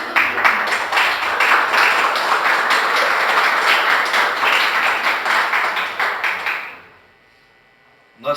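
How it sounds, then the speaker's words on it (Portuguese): Church congregation claps together in praise of Jesus, a loud, rhythmic clapping by many hands that continues for several seconds, then stops abruptly and leaves near silence before a last brief sound. "dê uma salva de palmas para o Senhor Jesus"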